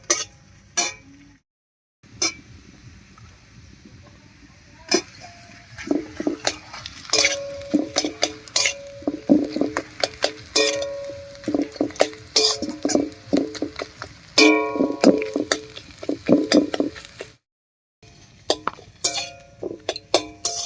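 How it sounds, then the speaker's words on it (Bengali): Boiled potato is stirred into onion, garlic and green chilli frying in a pan for aloo bhorta, with repeated clinking and scraping of a spatula against metal in uneven bursts, close by, separated by brief silent gaps. "এবার এর মধ্যে সেদ্ধ আলুটা দেব।"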